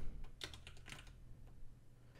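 Fingers tap quickly on a computer keyboard, a short run of light clicking keystrokes followed by a few scattered taps, quiet and close with no voices.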